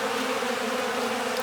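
A steady, close buzzing drone of many honeybees feeding on leftover honey on old frames, continuous and unbroken throughout with no voices.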